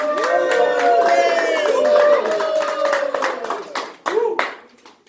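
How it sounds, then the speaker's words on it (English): Hands clap in a small crowd, quick and fairly close, mixed with overlapping talk and voices that nearly cover the clapping before it thins out toward the end. "Let's have Dave give a round of applause."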